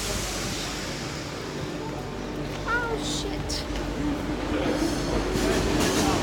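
A metro train at a Paris station on the line toward the Champs-Élysées, a loud, steady rumble and screech of a train moving along the platform, with some faint voices in the background.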